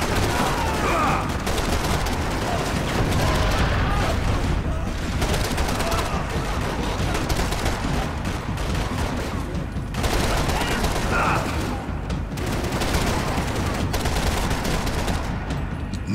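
Dense, loud gunfire from a Max Payne 3 shootout, with rapid bursts and sustained volleys rattling continuously for the whole stretch, close and intense, with occasional voices under the shooting.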